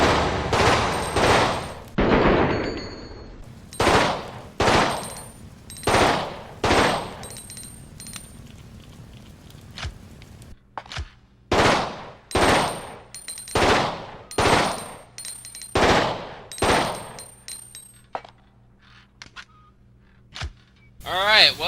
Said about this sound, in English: A handgun that could rapidly fire up to 3 rounds. Hence, just like its name, it is a burst fire weapon.